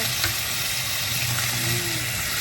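Steak searing in a pan with melted butter gives a steady, loud, close sizzle that hisses on without a break, with a few faint crackles.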